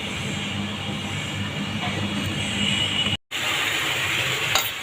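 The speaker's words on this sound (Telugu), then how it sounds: "ఇంకా వంకాయ ఫ్రై కూడా చేస్తున్నాను ఇప్పుడు తాలింపు పెట్టాను ఫ్రై అవుతుంది" Horned eggplant fry hisses in hot tempering oil in a pan. The sizzle is close and continuous, cut by a brief gap late on, with no one talking.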